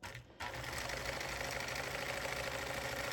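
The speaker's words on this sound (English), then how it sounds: "And you're just going to sew from one corner to the other." A sewing machine stitches a rag quilt corner to corner, a steady fast mechanical whirring and knocking that runs continuously after a brief pause at the start.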